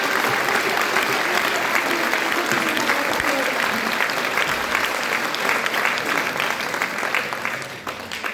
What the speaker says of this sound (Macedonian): Еден аплауз и за нашиот 70 годишен